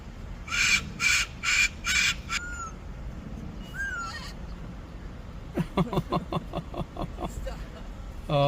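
A parrot calls like a seagull, loud and close: a run of harsh repeated squawks, a few wavering whistles, then another rapid burst of rhythmic calls.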